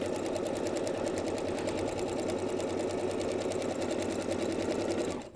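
A sewing machine stitches the last corner of a bow clutch bag, running steadily for several seconds in a rapid, even, close mechanical whirr and clatter before stopping.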